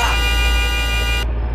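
A car horn in the video game Greenville gives one loud, steady, buzzy honk that cuts off abruptly near the end.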